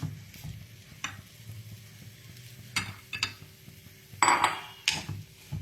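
Chopped onions sautéing in a pan until translucent for paneer pasanda: a soft, low sizzle broken by intermittent scraping stirs and a few sharper clinks of a spatula against the pan, close and moderately quiet.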